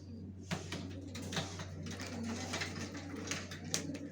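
Racing pigeon chicks coo softly and steadily at close range, with a few brief flutters and light knocks over a constant low hum.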